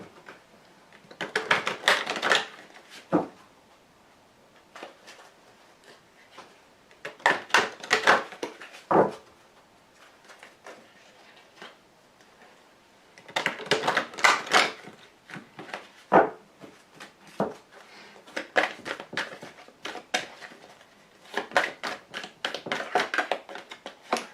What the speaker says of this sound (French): je vais tirer donc 5 cartes avec le grand jeu de Mademoiselle Lenormand